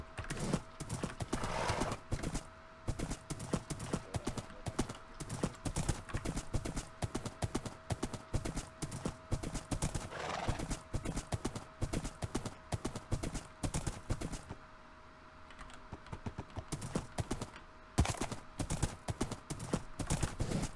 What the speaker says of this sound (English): Dude, this horse is so quick.